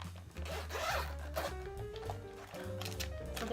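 A zipper is pulled open along a small makeup brush pouch, giving a steady rasping run of teeth for a few seconds, close and fairly quiet, with faint room tone behind it.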